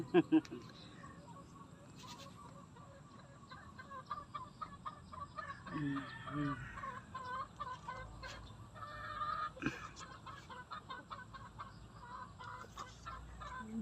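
Chickens cluck and murmur in a farmyard with other animals bleating nearby, plus occasional voices and a few sharp knocks at the start.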